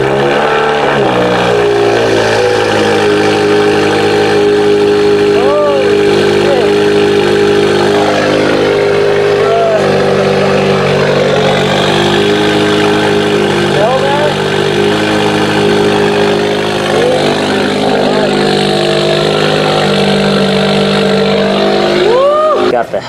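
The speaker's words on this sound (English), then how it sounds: "We're gonna get a quick startup over here with the new J-pipe on." A 2017 Subaru Forester XT engine fitted with a new J-pipe runs loud and steady close by, holding an even droning tone throughout.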